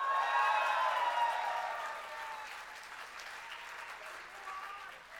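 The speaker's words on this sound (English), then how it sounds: "So if your favorite was Steve Null, give me a cheer." Audience applause and cheering at a BAHFest London comedy science event, a steady wash of clapping and crowd noise that is fullest at the start and slowly fades over several seconds.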